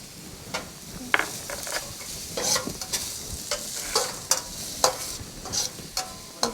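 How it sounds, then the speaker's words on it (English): Garlic frying in a pan for mixed vegetable fried rice, a steady sizzle punctuated by repeated spatula scrapes and taps as it is stirred, close and clear, no voices. "we fry it a little bit soft, and then can put the tofu"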